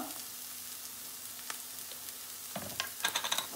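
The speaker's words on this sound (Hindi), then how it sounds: "हें टोमॅटो मातशें भाज दिया." Chopped tomatoes frying in a pan for a Goan kingfish curry, a soft sizzle with light stirring scrapes and clinks that grow busier toward the end, fairly quiet and close with no talking.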